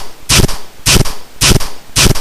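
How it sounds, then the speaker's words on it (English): Four loud, sharp gunshot blasts fired at a steady rhythm about every half second, close and punchy with brief ringing tails, no voices. "It seems all peaceful and quiet until you hear gunshots."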